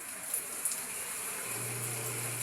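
Steady rain hiss with a few brief louder spatters, joined partway through by a low constant hum, like a motor or pump running nearby.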